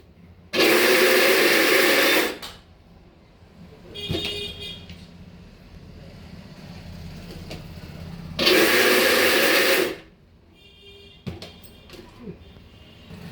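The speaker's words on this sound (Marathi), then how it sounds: "अशा प्रकारे मिक्सरमध्ये दळून घ्यायचं एकदम बारीक लय बारीक पण नाही पाणी न टाकता दळून घ्यायचं" A mixer grinder grinds dry chicken kabab spices without water in two loud pulses of a couple of seconds each, separated by quieter gaps with faint background noise.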